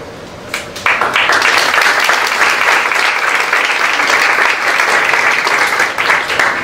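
An audience at a college board meeting breaks into loud, sustained applause for the college president, dense clapping that starts abruptly after a quieter moment and continues at full strength.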